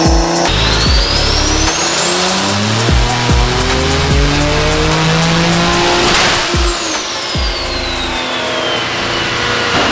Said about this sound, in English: I'm gonna do some braking miles on the dyno for the trans.